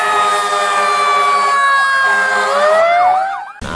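A loud electronic siren from a toy fire truck wails, rising and falling in looping sweeps, then cuts off abruptly.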